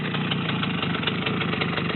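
A small Romet motorcycle engine idles steadily on a first practice ride, a continuous low mechanical rumble with a fine rapid pulse, close and fairly loud with no speech over it.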